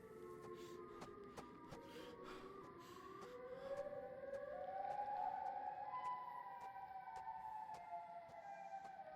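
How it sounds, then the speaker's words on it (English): The Siren Head creature from a horror video game wails with a rising, sweeping siren tone that climbs and holds, layered over a thin repeating clicking, moderately loud with no talk. "Siren Head. Makes siren noises."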